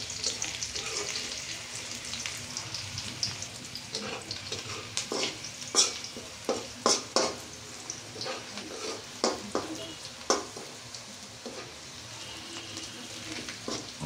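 Chopped onions fry in a pan with ginger, garlic and other spices, giving a steady soft sizzle. Several sharper stirring scrapes and clinks stand out over it. The sound is fairly quiet and no one speaks.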